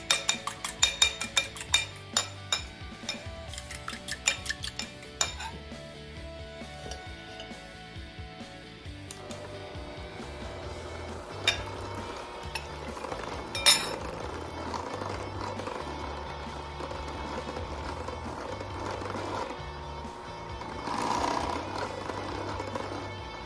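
Cheesecake batter is beaten and mixed in a bowl: quiet clinks and taps at first, then a continuous soft mechanical whirring with occasional scrapes, heard faintly and without talking.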